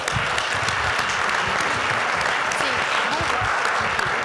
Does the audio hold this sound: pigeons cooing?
no